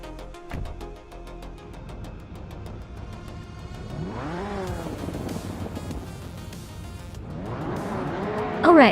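A classic 1987 Ford Sierra RS500 Cosworth and other vintage race cars at Automotodrome Grobnik in a racing video game: engines revving and sweeping past in rising and falling passes, with tire squeal and skidding, building to a loud close burst.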